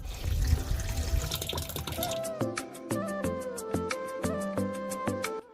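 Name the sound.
washing machine drum being filled with tap water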